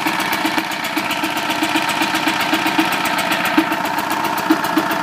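A Champion generator engine runs steadily just after starting, with a dense, even mechanical drone and rapid rhythmic pulsing that holds at a constant loud level throughout, with no voices.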